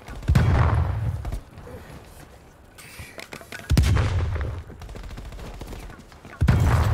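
Bursts of gunfire in the Prop Hunt video game, three heavy volleys of rapid shots with quieter stretches of scattered fire between them.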